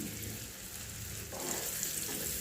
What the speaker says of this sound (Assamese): ইয়াত এতিয়া অকণমান হালধি দি দিম আৰু অলপ নিমখ দি আলুখিনি ভালদৰে ফ্ৰাই কৰি ল'ম।